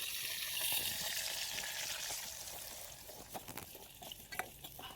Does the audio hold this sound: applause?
no